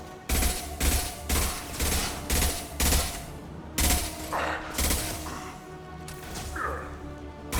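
Rapid bursts of gunfire in a Mass Effect combat battle, several loud volleys repeating in a steady rhythm, with scattered impacts and a couple of shouted voice lines between them.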